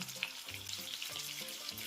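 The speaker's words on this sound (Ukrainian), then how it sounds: "Смажимо котлети на середньому вогні." Steady hissing and crackling sizzle of ground-meat patties frying in butter in a hot pan over medium heat, continuous and close, with small pops throughout.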